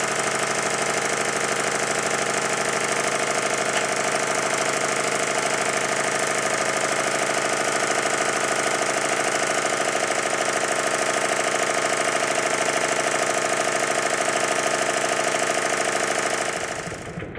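A model Stuart triple expansion steam engine runs continuously with a steady, dense mechanical drone and rapid rhythmic chugging, close and unchanging, fading slightly at the very end.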